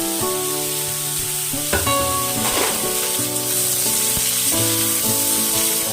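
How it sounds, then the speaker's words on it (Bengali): Cut bottle gourd drops into hot oil seasoned with white cumin and a dried red chilli, giving a steady loud sizzle and frying hiss with stirring, under a strong sustained musical tone throughout. "ওই তেলের মধ্যে আমি কেটে রাখা লাউগুলো দিয়ে দেব।"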